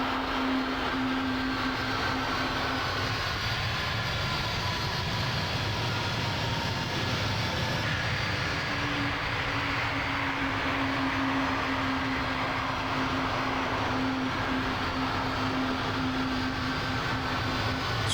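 Steady, droning jet engines of a C-17 transport taxiing in Microsoft Flight Simulator 2020, with a constant whine and low rumble that holds even and unbroken, without any voices.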